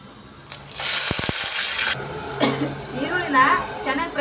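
Bay leaves and curry leaves hit hot oil in a cooking pot, giving a loud, hissing sizzle that lasts about a second, followed by softer frying crackle under a voice talking nearby.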